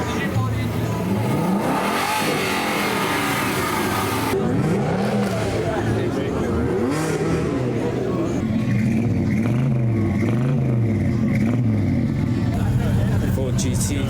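A Ford GT race car at the Le Mans Classic 2023 starts up and revs, its engine rising and falling in repeated blips over a constant loud crowd and voices talking nearby.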